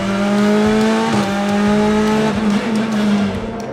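BTCC touring race cars pass through Paddock corner, loud close engines with steady high revs, a gear change midway and a sharp pitch drop as they go by, a second car following with its own rising and falling whine.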